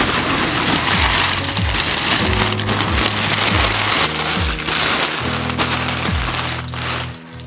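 Packaging material from an action figure unboxing being handled, a dense run of close crinkling and rustling that fades near the end.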